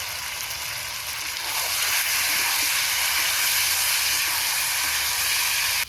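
Mutton curry with tomatoes just added sizzling in a hot pan, a steady, loud, broad hiss that swells slightly and holds for several seconds with no talking.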